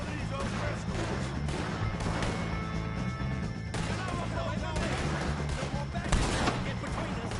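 Gunfire in the Red Dead game against O'Driscoll gang members crackles in loud, repeated bursts amid a chaotic shootout, with a sharper crash near the end and voices mixed in.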